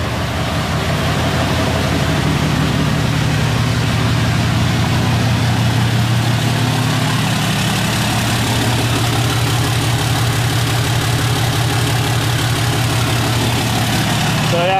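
A diesel pickup truck engine idles steadily right after a push-button start, a loud, close, continuous low rumble with a faint knocking texture and no talk over it.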